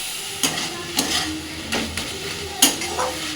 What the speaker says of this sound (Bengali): ভাজা ভাজা করে নিয়ে আলুটা দেবো